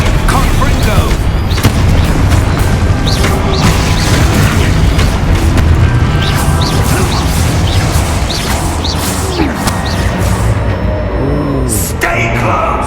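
Confringo fire spells exploding in Hogwarts Legacy on Xbox Series S: a dense, continuous barrage of loud booms and blasts layered over game music and effects, with no pause throughout.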